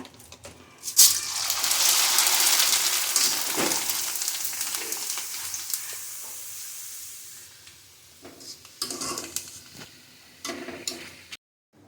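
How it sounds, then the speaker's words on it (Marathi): Spices and chivda frying in hot oil, giving a steady close sizzling hiss that peaks early and then thins out, broken by a few clicks and clatters near the end, with no talking. "इकडे माझा मसाला भाजला आहे झाले आता तळून घेते मग त्यात चिवडा"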